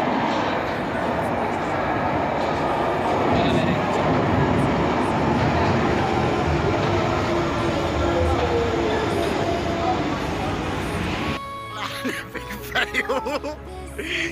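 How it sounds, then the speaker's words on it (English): Underground train pulling into a London station, a loud sustained rumble and squealing roar that cuts off as it stops, with people talking nearby. "Oh, here comes the train!"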